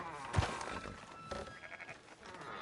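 Sheep bleating in the video game Red Dead Redemption 2, a few wavering bleats at moderate distance over faint farm ambience, with no talking.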